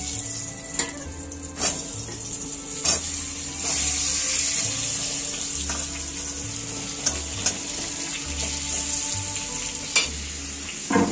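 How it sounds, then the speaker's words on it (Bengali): Pointed gourd (potol) fries in hot oil in a pan, a continuous loud sizzle broken by sharp clatters of stirring and a low rhythmic hum in the background, with no speech. "পটলটা ভেজে নিচ্ছে এবারে।"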